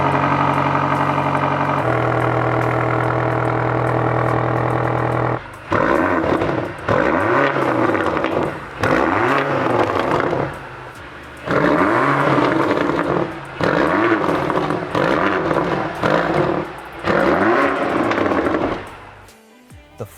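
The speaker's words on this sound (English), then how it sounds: "the exhaust note that this car can create is unparalleled" 2024 BMW XM Label Red with a 4.4-liter twin-turbocharged S68 V8 idles with a steady drone, then revs repeatedly in loud rising blasts with crackling pops on the overrun, close and alone.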